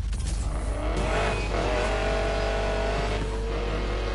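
Mustang engine in the racing game Need for Speed Payback, droning loud and steady throughout with rising revs and a brief tire squeal, no talking over it.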